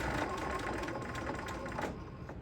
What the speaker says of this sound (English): when you put your needle down, your presser foot down, then it holds your presser foot level as you go across the bulky part.